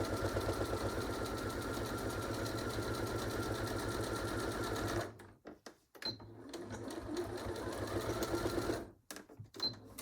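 A sewing machine stitches a pin cushion with a rapid, even mechanical chatter for about five seconds, then shorter stop-start bursts of back stitching with clicks and pauses.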